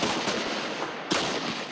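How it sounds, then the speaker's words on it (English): Gunfire exchanged between a protest camp and soldiers during anti-government protests in Bangkok, Thailand: two or three sharp distant reports over a dense, noisy crowd background, the loudest burst arriving near the end. "there's gunfire being exchanged between the camp and soldiers"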